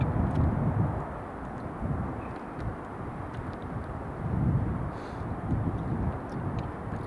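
A Boeing 737 Max airplane at Edinburgh Airport gives a broad, steady engine roar that swells and fades slightly, heard from a distance and mixed with wind buffeting on the microphone.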